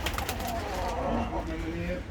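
At a Turkish bird market, pigeon coos rise faintly over a constant bustle of background voices and market noise, the calls low and muffled rather than standing out.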